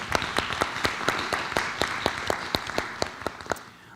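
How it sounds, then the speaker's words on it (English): Applause at a school board meeting: a moderate burst of clapping from a small audience, with sharp individual claps standing out over a steady patter that thins toward the end. "If you would give a round of applause for Miss Pam Perez."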